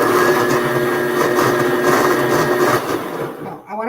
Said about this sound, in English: Oh, we're gonna blend it.